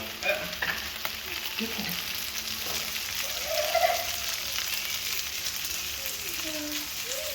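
Pad kra pao with leftover tomatoes frying in a pan, a steady, close sizzle with occasional stirring scrapes and clicks throughout, no voices.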